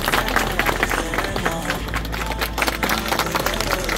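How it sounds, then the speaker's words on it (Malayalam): A crowd applauds a retired fire and rescue officer, Sreekishore, with dense, steady clapping and murmuring that fills the whole stretch at moderate loudness. "പലരും നല്ലൊരു കൈയടി നമുക്ക് കൊടുക്കാം എല്ലാവരും"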